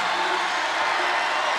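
A crowd roars steadily throughout at a 1994 NCAA women's basketball national championship game between UNC and Louisiana Tech, with a dense, loud wash of cheering and whoops that never breaks.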